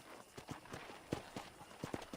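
Horse hooves clip-clop in a steady walking rhythm in Red Dead Redemption, a run of distinct, moderately close hoofbeats with a soft ambient bed behind them.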